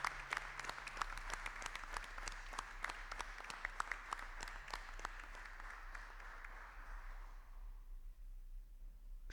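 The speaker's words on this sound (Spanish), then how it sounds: "Así que un aplauso, les pedimos que los acompañes." Audience applause at the opening of a labour conference, EITE 2024: distinct claps from a modest crowd that are fairly faint and distant, then taper off and die away near the end.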